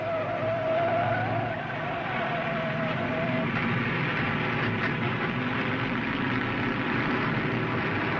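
Race car number 707 with a broken right front wheel limping into the pit at a 1967 racing event, tires scrubbing and skidding over a steady engine roar with crowd-like background noise.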